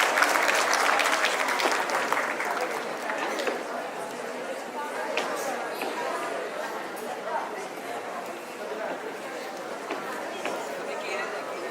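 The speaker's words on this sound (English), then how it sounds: "Let's give them a big round of applause." An audience at an Army Welfare Education Society school awards ceremony applauds a winning school, a sustained round of clapping that is strongest at first, then settles to a steady level, with some chatter mixed in.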